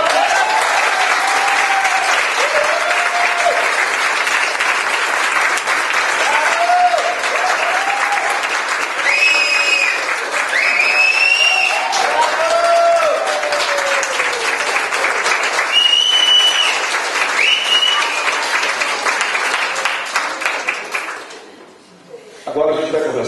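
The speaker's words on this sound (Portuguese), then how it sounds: "Uma salva de palmas." Sustained applause from the audience at a CONSEC PR state culture council meeting, steady clapping running for about twenty seconds, with voices and scattered whistles or cheers on top before it dies out abruptly.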